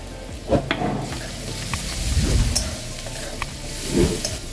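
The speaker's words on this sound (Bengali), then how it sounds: "তারপরে পেঁয়াজটা খুব ভাজা হবে না, হালকা ভাজা হলে এর মধ্যে আমি রসুন বাটা দিয়ে দেবো" Sliced onion fries gently in hot oil tempered with cardamom, bay leaf and fenugreek, giving a soft, steady sizzle with occasional stirring scrapes close by.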